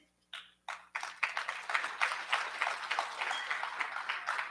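An audience at a national business awards ceremony breaks into applause, a few scattered claps at first that quickly swell into steady, sustained clapping from a large crowd.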